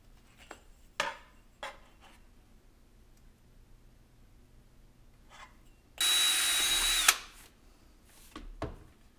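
Power drill boring holes for plastic rivets in a 4-inch model rocket airframe, one loud continuous burst of about a second after scattered handling clicks and knocks, close and without talk.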